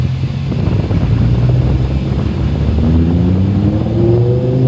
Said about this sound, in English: he could hear the car from a mile away